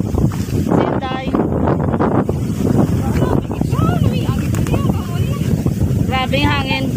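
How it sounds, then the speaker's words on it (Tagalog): Strong wind gusting on a beach hike, a steady broadband roar buffeting the microphone throughout while people talk and call out over it. "Grabe yung hangin."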